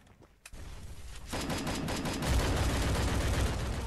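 Gunfire from the battle-royale video game Free Fire: a sharp shot, then a dense, continuous barrage of rapid automatic fire and explosive booms that grows louder and fuller, with no talk.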